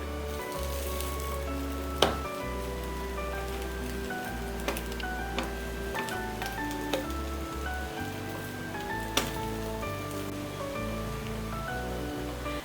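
Bread frying in ghee in a pan gives a steady, close sizzle with scattered pops and crackles, over a low hum and faint background music, with no talking.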